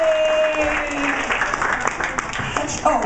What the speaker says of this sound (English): Keep clapping till he gets it.